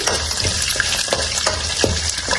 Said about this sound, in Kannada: ಇಲ್ಲಿ ಮೆಣಸಿನ್ಕಾಯಿ ಫ್ರೈ ಆಗಿದೆ